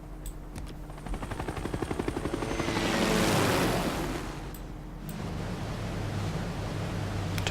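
A helicopter unit in Civilization 6 flies past with a fast, chopping rotor beat that swells to a loud whooshing peak and then fades into a steady hum. No talking during it.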